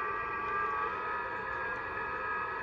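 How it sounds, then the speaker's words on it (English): A weak FT8 digital mode signal plays from a Yaesu FT-818 radio on a lower band, giving faint steady warbling tones over constant static hiss for the whole stretch, with no talking. "And you're hearing the FT8."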